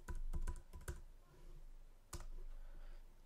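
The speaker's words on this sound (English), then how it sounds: "I'll just type it up here in my formula bar." Keys clacking on a computer keyboard while text goes into a spreadsheet formula bar, a quick cluster of close, crisp taps followed by a lone sharper keystroke after a short pause, quiet room, no talking.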